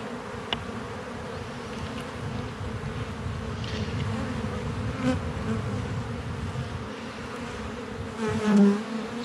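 Honey bees buzzing around an opened beehive during the first inspection of the year, a dense continuous hum close by with individual bees droning past now and then.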